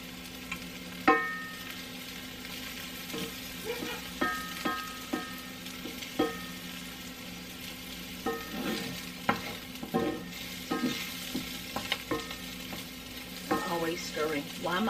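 Spoon stirring pasta sauce in a pot, soft scraping strokes and light knocks against the side over a constant sizzling simmer, close and steady with no talking.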